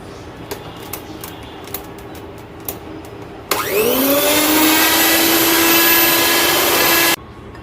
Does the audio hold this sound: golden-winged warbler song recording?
no